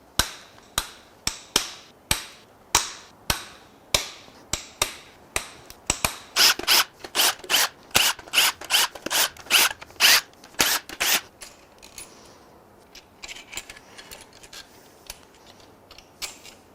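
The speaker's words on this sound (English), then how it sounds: "now I think I can get all the bolts and stuff out" Bolts being worked loose from a failed Toyota Tundra V35A twin-turbo V6 engine during teardown, a steady run of sharp, close mechanical clicks like a ratchet wrench that quicken and grow louder before trailing into quieter rattling, with no talk.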